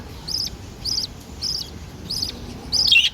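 High, thin chirps of budgie chicks repeat five times at a steady pace, the last one longer and more insistent, over a faint low background hum.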